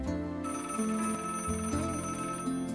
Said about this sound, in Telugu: మీకు కూడా ఈ అలారం సౌండ్ వినిపిస్తుంది కదా.